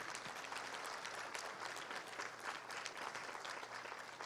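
A church congregation claps steadily and densely throughout a Christian service led by a prophet, a continuous wash of applause without pauses, heard from some distance.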